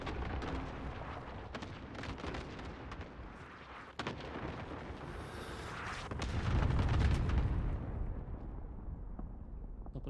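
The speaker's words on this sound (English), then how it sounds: "Airstrike coming in your way." Airstrike explosions rumble in a video game, a dense run of booms and blasts with a heavier low-end surge near the end before fading out.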